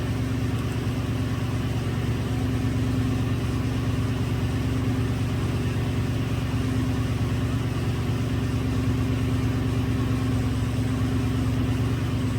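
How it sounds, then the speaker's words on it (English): A 2004 Toyota Tundra with a 4.7 engine idles steadily with a misfire, giving a constant close, loud engine drone that stays even throughout, with no voices. "I do have it running."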